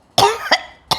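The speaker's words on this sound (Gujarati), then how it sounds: "આવું કેવું ઉધરસ" Three harsh, close coughs in quick succession, two sharp bursts close together and a third after a short pause, with near silence between them.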